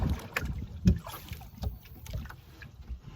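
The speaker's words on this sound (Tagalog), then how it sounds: "Malakas-lakas din yung hangin." Gusty wind buffets the microphone with low rumbling bursts, over splashing water from a small boat in motion.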